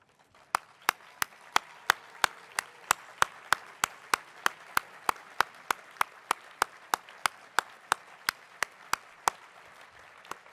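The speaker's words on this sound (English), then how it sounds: "let's let the graduates applaud you for all the help and guidance you've given them" At a medical school honors and awards ceremony, graduates clap for their families in a steady, evenly spaced beat of crisp single claps that carries on for about ten seconds.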